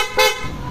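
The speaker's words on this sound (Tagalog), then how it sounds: "Busina." Horn on a small motor scooter giving one short, close, bright toot that stops almost at once.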